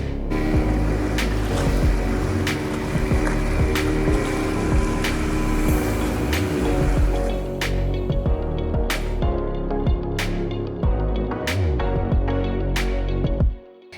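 A boat heads out to sea off Shivrajpur Beach near Dwarka, its engine a steady, loud drone with water rushing against the hull throughout, broken by a few sharp knocks toward the end.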